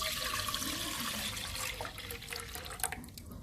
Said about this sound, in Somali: caanahan ku soo shubtay